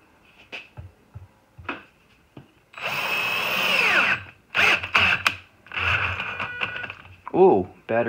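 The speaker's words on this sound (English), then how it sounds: "let's try the drill motor and see if you get a better" A power drill motor bores into clean wood with a cheap drill bit, whining in bursts that start and stop between short thumps and handling clatter, fairly close.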